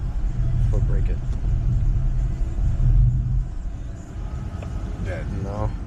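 An Audi S4 engine idling roughly with a suspected misfire and possible blown transmission, a close, uneven low rumble that dips and surges, with people talking over it.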